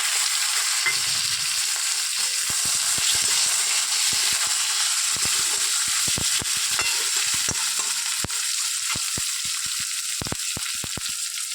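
Chopped onion hits hot oil in a pan after fried potatoes, giving a constant bright sizzle with scattered sharp clicks and taps of stirring, no voices.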